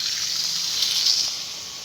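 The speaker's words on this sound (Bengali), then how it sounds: "এবার যে মিক্সারের বাটিতে মশলা করেছিলাম সেই মশলা ধোয়া জলটা আমি দিয়ে দিচ্ছি" Water used to rinse ground spices from a mixer jar is poured into a pan of potato curry, a short, steady gushing splash lasting about two seconds.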